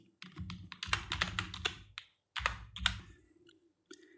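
Computer keyboard typed on in two quick bursts of close, crisp key clicks separated by a short pause, with a couple of stray taps afterward.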